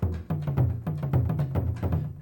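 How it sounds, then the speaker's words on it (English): Taiko drum sample struck in a steady run of deep booming hits, about eight evenly spaced, loud and close with a low resonant tail, no talk. "And taiko drum. Sounds like this."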